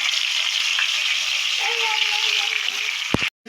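Fish sizzles in hot oil in a new Indian-style wok, a loud, dense frying hiss close by that holds steady, then cuts off abruptly near the end before returning.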